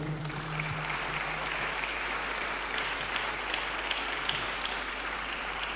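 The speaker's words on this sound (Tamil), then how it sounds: "கைத்தட்டுக்க பார்க்கலாம்." A church congregation claps throughout, a continuous even wash of many hands that stays fairly distant and moderately quiet, with a faint voice at the very start.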